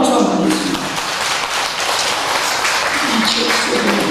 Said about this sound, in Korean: 큰 박수 한번 하겠습니다